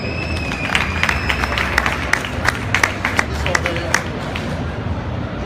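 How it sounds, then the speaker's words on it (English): A conference audience applauds to welcome a speaker at a live talk on starting a car company, brisk scattered clapping mixed with crowd murmur and some voices. "I'd like to give a warm round of applause for Anthony Generelli."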